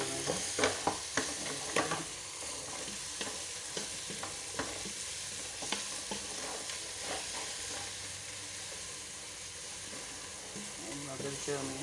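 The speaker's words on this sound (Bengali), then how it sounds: "এখন ভালো করে একটু নেড়ে নেবো, ভালো করে নেড়ে চেড়ে নেবো।" Garam masala paste stirred and frying in a pan, a steady close sizzle broken by repeated scraping strokes of a spoon against the pan, busier and louder in the first couple of seconds.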